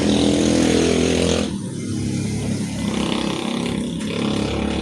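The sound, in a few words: motorcycles passing on a highway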